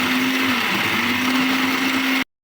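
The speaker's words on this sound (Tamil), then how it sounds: "இதை வந்து நம்ம மிக்சி ஜாரில் போட்டு அரைச்சிடலாம்" A mixer grinder jar blends curd for a hair pack, giving a loud, steady motor whine with an even pitch that runs for about two seconds, then cuts off abruptly into silence.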